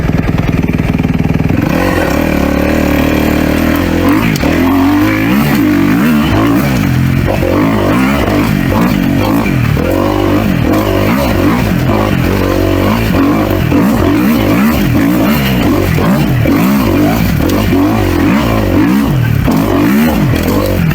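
A 250F four-stroke dirt bike engine roars loud and close on a trail ride, revving up and down continuously with rising and falling pitch as the rider shifts and accelerates, wind and mechanical clatter mixed in, with no voices.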